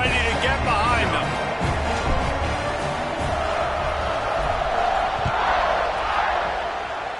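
Stadium crowd roaring in a college football video game as the home side kicks off after a 7-0 extra point, a dense continuous wash of cheering under a commentator's voice.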